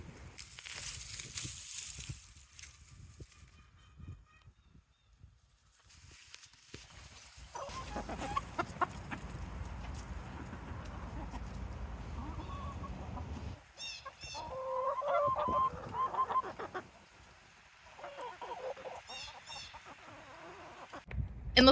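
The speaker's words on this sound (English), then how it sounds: "the chickens will really appreciate these greens" Backyard chickens cluck and murmur intermittently near a garden, soft close calls coming in scattered bursts amid outdoor rustling, with quiet stretches between.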